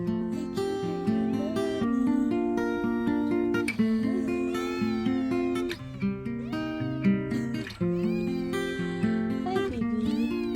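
A Savannah cat mother meowing repeatedly nearby, a string of loud, drawn-out, tonal cries with wavering pitch and brief pauses between calls.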